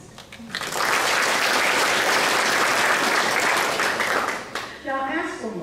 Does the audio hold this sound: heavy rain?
no